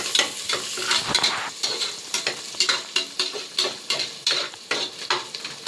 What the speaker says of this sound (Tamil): இது நல்லா வெங்காயம் நல்லா வதங்கணும். கொஞ்சம் ப்ரௌனிஷாக வரட்டும்.